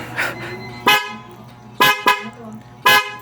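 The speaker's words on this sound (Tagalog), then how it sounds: "yan na yung loud horn" Three loud, short blasts of a dual-tone horn fitted to a Suzuki Burgman scooter sound up close, the last two in quick succession, with background hum between them.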